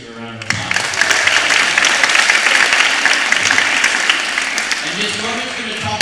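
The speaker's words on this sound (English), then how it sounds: "Let's give her a round of applause." A school audience applauds a teacher newly put in charge of the grade 6 team, dense and steady clapping that fills the room for about six seconds before tapering off.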